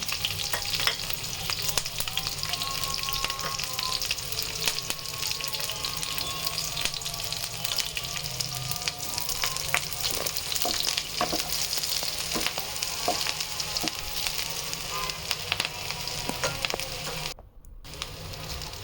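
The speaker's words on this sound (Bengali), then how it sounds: "তেলটা হালকা গরম হয়ে আসলে এর ভিতরে দিয়ে দিচ্ছি পেঁয়াজ মরিচ কুচি" Chopped onion and green chili hit lightly heated mustard oil in a pan, giving a continuous close sizzle with scattered crackles and stirring clicks, briefly cutting out near the end before resuming.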